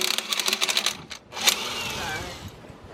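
An impact wrench removes a car wheel during an air ride four-link bushing job, giving short rattling bursts of hammering up close, with a brief pause between them.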